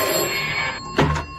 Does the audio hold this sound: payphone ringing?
yes